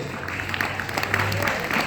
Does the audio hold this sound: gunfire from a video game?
no